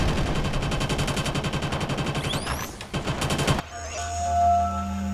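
Dense, rapid gunfire from the video game Killzone: Shadow Fall, with a STA14 sniper rifle among the weapons, loud and continuous before cutting off into quieter game ambience.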